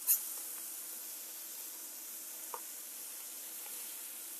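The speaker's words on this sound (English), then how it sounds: "I realized I had crab cakes on the stove, and I better flip them." Crab cakes fry in a pan on the stove, a faint, steady sizzling hiss in the background with a few tiny pops and clicks.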